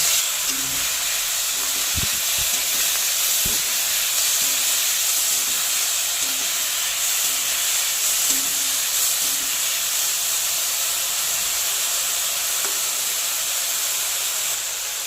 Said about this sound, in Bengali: এবার চিংড়ি মাছটা একটু হালকা করে ভেজে নেব।